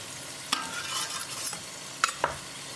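Chopped garlic sizzles in a pan alongside chicken with lemon and chilli, with a steady frying hiss and a few sharp scrapes as it is stirred.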